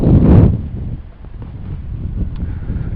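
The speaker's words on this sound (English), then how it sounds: "It's windy." Wind buffets the microphone in a low, rumbling rush, strongest at the very start and then settling into a steady gusty roar.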